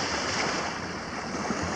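Surf washes onto a beach at high tide on a morning shore, a dense continuous wash of water mixed with wind buffeting the microphone, loud and close with no clear break.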